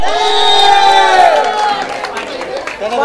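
Spectators at a cricket match in a premier league game raise a loud, close burst of shouting and cheering that swells at first, then thins into scattered voices and a few claps.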